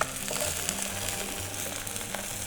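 Brain pieces fry slowly in a pan over low heat for the Yakut dish сыалаах мэйии, giving a steady, close sizzle with a faint low hum underneath and no voices.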